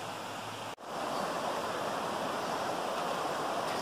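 A river flows steadily with broadband rushing water, constant and fairly close, broken once by a brief dropout early on before the flow resumes.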